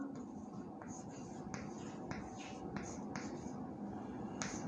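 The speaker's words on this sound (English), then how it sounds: "Here let me write another sentence." A pen or chalk writes a short sentence during an English lesson, giving repeated brief scratchy strokes over a steady background hiss.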